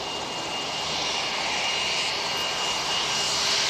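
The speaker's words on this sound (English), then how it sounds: "There's a light touch landing there." Airbus A320 airliner touching down lightly at Wellington after a short hop from Blenheim, its engines giving a loud, steady roar that swells slightly toward the end, with no voices.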